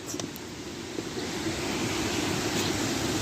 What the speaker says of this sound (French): il y a une cascade qui traverse la ville